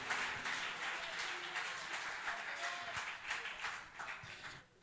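A church congregation applauds together, a dense, sustained wash of clapping that fills the room and then fades toward the end.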